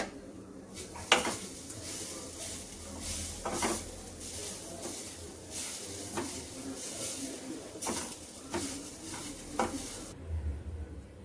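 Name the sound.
grated coconut stirred and fried in a pan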